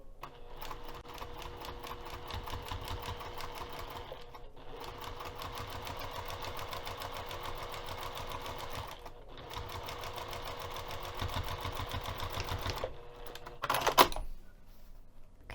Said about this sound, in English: and then I can continue sewing